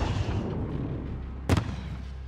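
A flare launcher fires once in the Call of Duty: Modern Warfare campaign, a single short sharp pop cutting through a steady low rumble of battle ambience.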